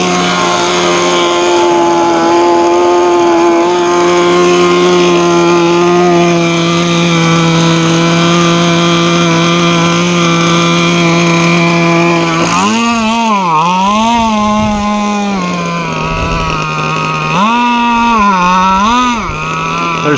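A ZippKits G48 gas outboard engine runs loud and close on a tunnel hull boat, holding a steady buzzing drone before its pitch starts rising and dipping as the throttle is worked.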